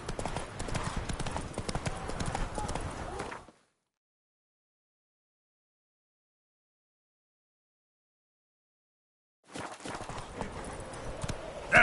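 Hooves of Roach, a horse in a PlayStation 4 video game, clip-clop steadily in a brisk walking rhythm, then drop out into several seconds of silence before resuming.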